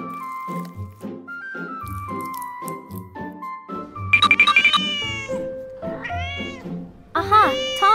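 A hungry cat meows repeatedly in a kitchen where miniature beef and vegetables are being cooked. The meows are close and insistent, mixed with light background tones, and a voice speaks among them.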